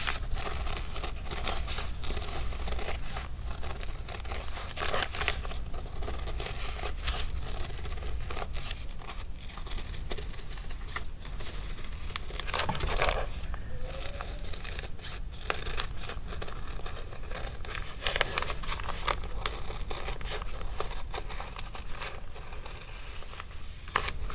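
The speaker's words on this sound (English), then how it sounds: "We're just going to cut out our chicken." Scissors snip steadily through fabric while cutting out a chicken applique for a quilted sweatshirt, close-up crisp cutting and rustling of cloth continuing throughout with no talking.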